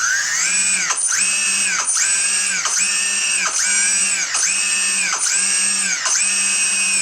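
A Multiwii 3D brushless motor spins in reverse on a test rig, a high whining tone that repeatedly revs up and drops in short regular pulses, loud and close with no talking.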